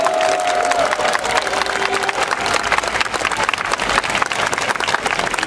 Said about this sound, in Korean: 우리 합창단 다 내려가실 때까지 큰 박수 쳐주시기 바랍니다